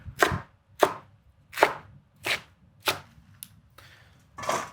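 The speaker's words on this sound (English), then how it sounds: "I'm just gonna slide it up like this and chop the other way" A knife chops cooked greens on a cutting board, making seven crisp, evenly spaced strokes roughly every two-thirds of a second. Each cut sounds close and clear against a quiet background, with no talking.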